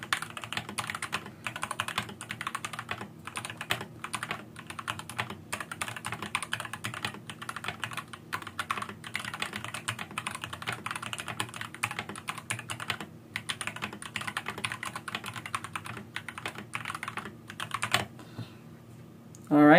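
Typing runs steadily on a Deep Cool KG722 65% mechanical keyboard with fleeting pauses, its close, crisp key clacks forming a quick, continuous rhythm before stopping near the end.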